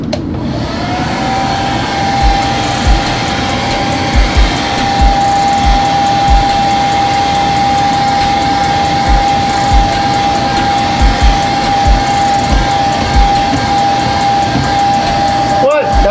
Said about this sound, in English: I got the Conair hair blow dryer.